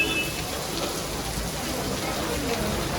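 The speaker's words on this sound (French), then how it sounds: "Ouais, mais c'est la grêle qui tombe." Hail falls in a continuous dense patter of small hits on surfaces outdoors in India, an even broadband hiss with no pauses.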